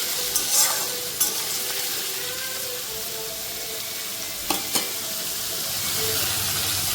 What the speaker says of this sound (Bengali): চিংড়ি মাছটা ভেজে তুলে নিলাম